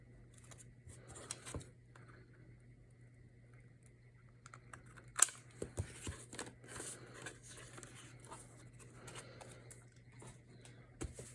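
Scissors snip a tag shape out of paper along a template for an autumn junk journal. Soft, scattered cuts cluster near the middle over a faint steady hum, with quiet rustling around them.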